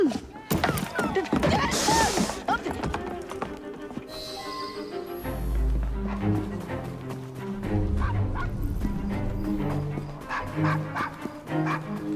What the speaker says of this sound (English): No, quiet. Bad dog.